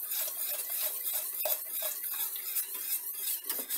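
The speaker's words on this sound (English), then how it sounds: "And then we just keep stirring it on a low heat." A whisk or spoon scrapes steadily around a pot of white sauce over low heat, a continuous close swishing and light metallic rasping with no voices.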